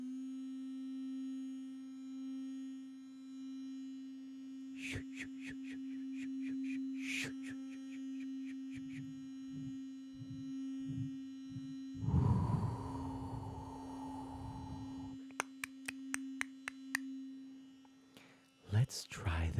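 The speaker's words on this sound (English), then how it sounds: "a fairy wheel toothbrush." An electric toothbrush gives a steady, low buzz that runs the whole time, with scattered clicks and a brief louder noisy stretch midway.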